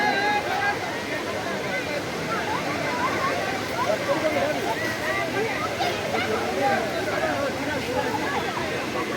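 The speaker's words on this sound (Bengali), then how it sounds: "শুধু জলের শব্দ।" Debkund waterfall pours in a constant, dense roar of rushing water, broad and unbroken, with faint voices murmuring underneath.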